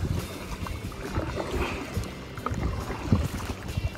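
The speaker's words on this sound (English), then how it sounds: "Start paddling." Kayak paddling on tidal salt water at a paddle fishing tournament, with steady close strokes and soft water swishes against a breezy outdoor background, no talking.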